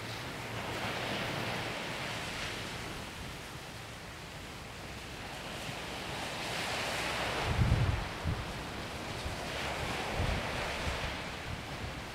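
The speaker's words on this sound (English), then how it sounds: "you can definitely notice the water being quite choppy" Choppy ocean waves roll onto the north shore under strong wind, a continuous roaring wash with surges of surf and gusty wind buffeting the microphone, with one low thump midway.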